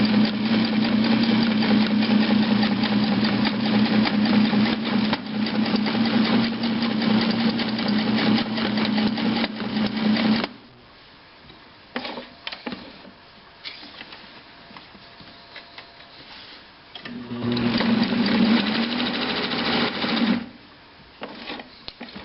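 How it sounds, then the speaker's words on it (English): Kenmore 120.491 sewing machine running a straight stitch, a loud steady mechanical whir for about ten seconds, a quieter pause with handling noises, then a second shorter burst of stitching. "I just wanted to show the straight stitch ability of this machine."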